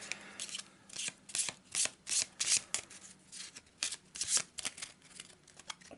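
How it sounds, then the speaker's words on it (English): A deck of cards for an Arkham Horror board game is quickly shuffled by hand, giving a string of crisp riffling bursts and soft slaps in an uneven rhythm, close and quiet, with no voices. "Quick shuffle."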